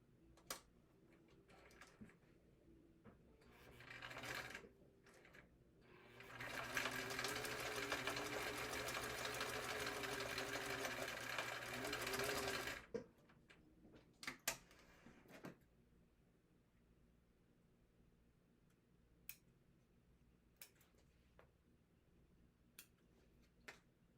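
A home sewing machine top-stitching pieces of a fabric wallet, a steady whirring run of several seconds with shorter bursts before and after, plus scattered handling clicks in a quiet room.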